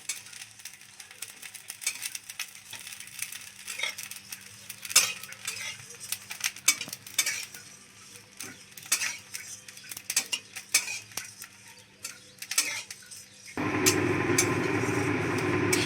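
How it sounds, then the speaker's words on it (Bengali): Vermicelli frying in ghee for kheer, stirred with a metal spoon against the pan: irregular close scraping clinks and taps over a faint sizzle, then a louder steady hiss in the last couple of seconds. "এখানে আমরা সিমইটা ঘিয়ের সঙ্গে ভালোভাবে ভেজে নিচ্ছি"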